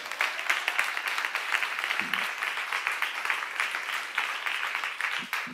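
A church congregation applauding during a sermon: a sustained patter of many hands clapping in a hall, fairly even throughout, with a few faint low murmurs underneath.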